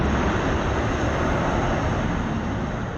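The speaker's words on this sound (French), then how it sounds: "À l'aéroport de Palmdale, en Californie, un avion d'un genre un peu particulier est en train de décoller." A Boeing 747 taking off at Palmdale airport in California, a loud continuous jet engine roar that holds steady and then begins to fade slightly, with no voices.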